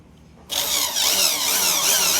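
A power tool drills in nuts on an 18-inch bandpass horn subwoofer cabinet, starting abruptly after a quiet half second and then whirring steadily and loud, close by, with no talk.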